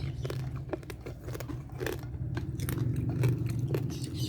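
Close-up crunching bites and chewing on crispy air-fried lechon belly, repeated loud crackles as the crackling skin breaks, with no talking during the chewing.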